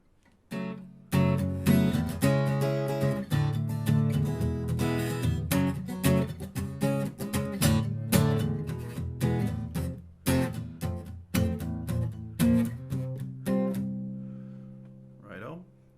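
An acoustic guitar plays a solo line over looped backing chords from a looper pedal, bright plucked notes and strums ringing continuously for the whole stretch.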